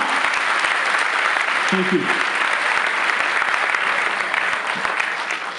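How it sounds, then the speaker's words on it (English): Round of applause from an audience at a charity foundation launch event, steady dense clapping throughout, with a brief spoken word and some voices under it before it tapers slightly at the end. "We can give them a bigger round of applause than that."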